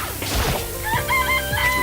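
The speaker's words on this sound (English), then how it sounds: "Look at all these chickens." Chickens in the video game Danganronpa Trigger Happy Havoc, with a rooster crowing and hens clucking in short, close bursts over steady game background music.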